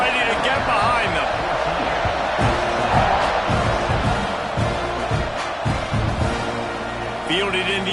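A college football stadium crowd at an Alabama versus Texas A&M game roars ahead of a kickoff. The broad, steady cheering is loud and continuous, with thumping bass and scattered whoops under it.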